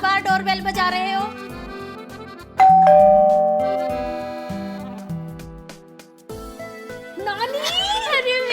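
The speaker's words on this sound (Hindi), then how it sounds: "क्या बार बार डोरबेल बजा रहे हो?" An electronic ding-dong doorbell at a home rings again and again, its two-tone chime repeating insistently and close by, with brief voices in the background.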